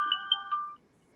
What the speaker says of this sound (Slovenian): evo še telefon